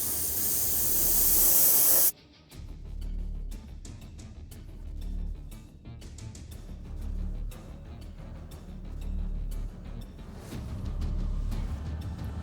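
An aerosol can sprays blue base coat onto the taped-off boots of a 3D-printed Batman statue, beginning with a loud continuous hiss. The spray cuts off after about two seconds, and quieter handling noises follow.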